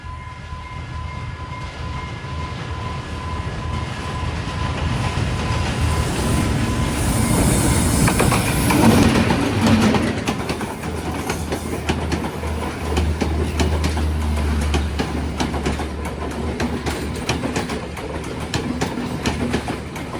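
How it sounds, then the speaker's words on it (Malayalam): A train rumbles past up close at a railway crossing in Maho, Sri Lanka, its wheels clattering and faintly squealing over the rails, with a steady low roar that swells midway and then holds. "ഇവിടെ ഇപ്പോ റെയിൽവേ ഗേറ്റ് അടച്ചിരിക്കുകയാണ്. കാരണം ഇതാ ട്രെയിൻ കടന്നു വരികയാണ്."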